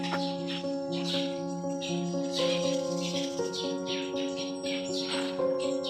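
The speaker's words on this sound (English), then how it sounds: "Listen to the bird" Birds chirp and call repeatedly in short bright phrases over a steady tonal hum in the background, moderately faint and continuous throughout.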